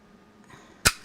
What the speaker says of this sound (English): and just punch them all out again